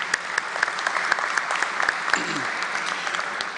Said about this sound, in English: So please give a round of applause for them for us